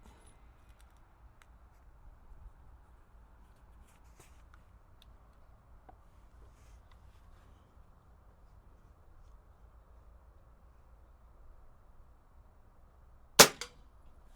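A single sharp crack from an Air Arms XTi-50 air rifle firing a pellet, close and loud after a long near-silent stretch, followed by a faint brief echo or pellet strike.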